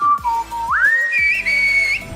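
A person whistles alone, close and clear, a short melodic phrase of gliding and sliding notes that rise and fall over about two seconds.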